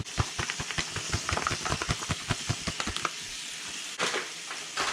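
Sausage and flour cooking down in a pan for sausage gravy, a steady crackling sizzle with rapid popping bursts up close, settling into a softer hiss.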